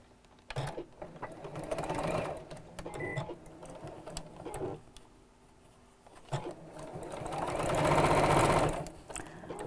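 A sewing machine stitches quilt block pieces together for a woven quilt block, its motor whirring in bursts of varying length with short pauses between runs, close and fairly loud.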